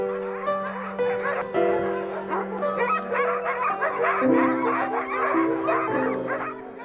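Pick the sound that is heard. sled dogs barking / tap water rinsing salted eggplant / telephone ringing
sled dogs barking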